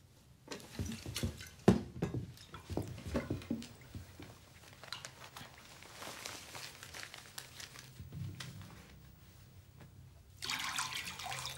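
Warm water runs from a tap into a basin in a steady, close gush with scattered clinks and crinkling handling noises, swelling louder toward the end; no one speaks.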